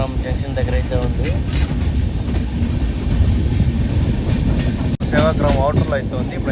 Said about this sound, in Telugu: మళ్ళీ బయలుదేరుతుంది మన ట్రైన్ కూడా.